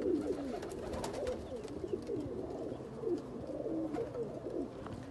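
Breeder pigeons in Faisalabad coo softly and repeatedly in overlapping low, throaty calls, with faint rustling as they move about nearby.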